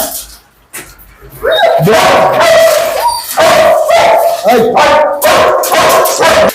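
Several German Shepherd dogs at a dog farm bark loudly and close by, sharp repeated barks mixed with whining and whimpering, after a brief quieter start.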